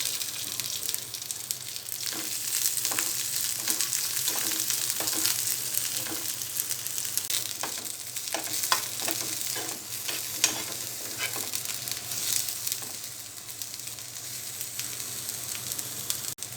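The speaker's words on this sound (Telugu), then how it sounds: "ఇందులో వంకాయ ముక్కలు కూడా ఫ్రై చేసుకోవాలి." Brinjal pieces fry in oil with mint and green chillies, giving a steady close sizzle broken by repeated scraping stir strokes that run the whole time, with no talking.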